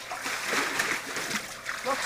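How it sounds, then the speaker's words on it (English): Water squirted and splashing near a balcony: soft, close splatters and trickles over about two seconds, with voices talking at the same time. "And stop squirting."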